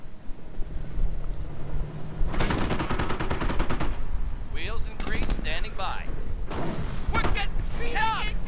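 Artillery fire pounding a Nebelwerfer rocket launcher in a Company of Heroes–style World War II strategy game: a rapid rattling burst of explosions and gunfire, loud and near, followed by scattered blasts under a commentator's talk.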